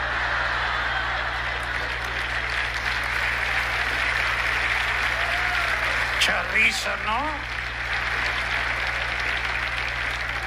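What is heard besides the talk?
audience applause at ventriloquist show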